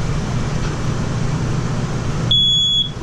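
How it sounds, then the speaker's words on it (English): A battery-powered 9-volt smoke detector in a Vibe Extreme Lite 19RB travel trailer is tested and lets out one shrill, piercing beep of about half a second, loud and close over a low background hum. "It's got a smoke detector."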